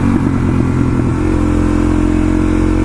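Suzuki DR-Z400 dirt bike engine droning loudly and steadily while riding along a rural trail near Aska, Georgia, a close, constant motor roar with a slight shift in pitch partway.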